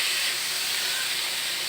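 Chili being sautéed in a hot pan for a home-cooked viand, a steady broadband sizzle and hiss that stays even and close throughout, with no talking.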